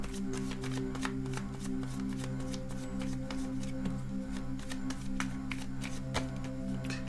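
Tarot cards being shuffled by hand, a long run of quick papery riffles and flicks, close and steady over a constant low hum, with no talking.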